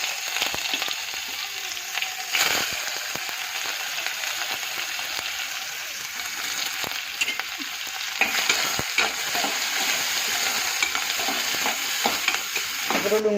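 Chopped onions and cumin seeds fry in hot oil for a Gujarati soybean and potato curry, a steady close sizzle broken by scraping stirs and light utensil clinks.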